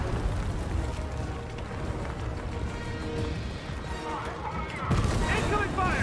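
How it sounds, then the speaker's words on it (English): Dense gunfire and explosive booms rumble continuously and loudly during Fortnite's Collision season-ending event, with a heavier blast-like burst near the end. "Incoming fire!"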